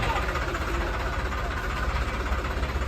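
A 2014-model New Holland 3630 tractor at a tractor market in Malout runs with a steady, close, low engine rumble and a fine rhythmic knock throughout.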